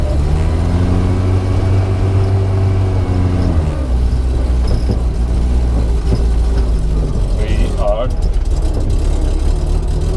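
A retro 1959 Moskvich 402 car pulls away and drives, its low engine drone and rumble steady and close while people talk over it.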